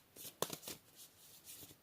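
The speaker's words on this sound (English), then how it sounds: "what we have here is a lengthy shuffling video" A deck of tarot cards is shuffled close up, giving a series of soft riffling and sliding bursts with a few light taps, faint overall.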